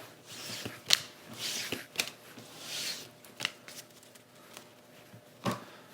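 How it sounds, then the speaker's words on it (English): One Piece card game boxes being opened and booster packs pulled out: quiet papery rustles, crinkles and sharp foil snaps in scattered bursts, close and alone. "now I'll just open up the other one and grab out these packs"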